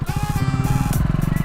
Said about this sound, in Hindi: अबे कौन था वो गोविंदा टाइप जो तेरी बाइक ले गया?